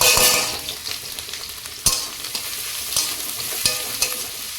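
Onion with grated ginger and garlic frying in oil in a wok, a bright steady sizzle punctuated by clanking stirs of a spatula against the metal.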